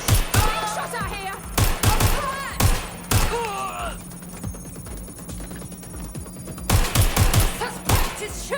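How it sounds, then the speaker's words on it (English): Bursts of gunfire in Watch Dogs Legion, several loud volleys crack in clusters with quieter gaps between, while voices shout and groan over the shooting. "Suspect is shooting!"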